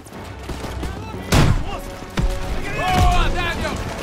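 Gunfire in the World War II shooter game Call of Duty WW2, with two sharp loud bursts of shots over continuous battle noise and shouted voices.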